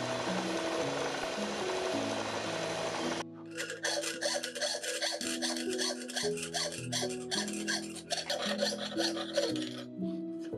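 Brass sheet being cut to free an escape wheel blank for a watch, a rapid rasping, sawing stroke rhythm that shifts pace partway through, steady and close, with a faint tonal hum underneath and no voices.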